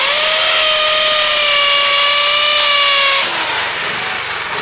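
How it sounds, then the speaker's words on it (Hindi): An electric drill powered by a generator bores into a wall, a loud steady whine with a strong tonal hum that shifts pitch as the bit stops, leaving a fading rising whine at the end. "अब यहाँ से ड्रिल करते हैं,"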